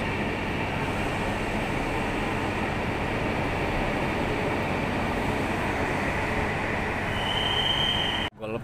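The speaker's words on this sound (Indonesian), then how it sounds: "selamat jalan Kang Gus menuju Tegaluar dengan membawa penumpang yang stasiun terakhir di Tegaluar" The Whoosh high-speed train at Padalarang station makes a loud, steady rumble and rush that holds for about eight seconds before cutting off abruptly, with a faint high tone near the end and no clear voices.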